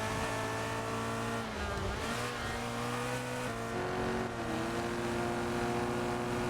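A Lamborghini Aventador SVJ racing in the video game Solar Crown, its engine droning loud and steady with shifting pitch as it accelerates and changes gears, with no talk.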